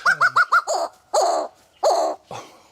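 A bird of paradise gives a run of loud, quick, hooting calls, four rapid notes and then several longer harsh bursts, close and clear with no talk over it.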